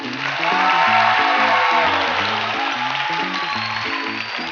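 An audience at a lecture for students, before a talk by a Qatar Airways cabin manager, applauds steadily while a rhythmic low musical pattern plays underneath.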